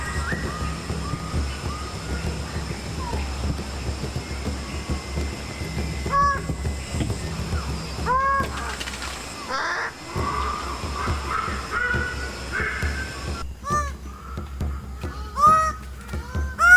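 Male birds-of-paradise calling during a courtship display in a forest canopy: harsh, crow-like caws and honking notes repeat irregularly over a steady background hum, growing denser and louder toward the end, with no talking.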